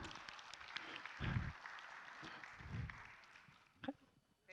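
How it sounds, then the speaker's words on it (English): An audience at a business leadership talk applauds as a volunteer is called on stage, a faint, distant patter of clapping with a few thumps and low murmurs. "applause."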